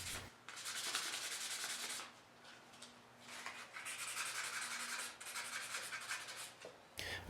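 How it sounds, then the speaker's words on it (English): Steady back-and-forth hand sanding of a micarta knife handle with fine 600 grit sandpaper, close and moderately loud in long rhythmic strokes, with a brief pause near the middle and no talking. "I'll finish up by hand sanding everything smooth using 320 followed by"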